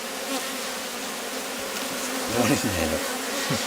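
Honey bees in a Rose hive left with too many swarm cells, a dense continuous buzzing hum filling the space close up, steady throughout and swelling slightly near the end.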